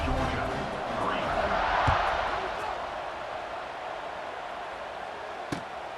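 Football stadium crowd at a Georgia Bulldogs vs LSU Tigers game, a steady broad roar of cheering that swells around the middle and then holds, with a single sharp thud near the end.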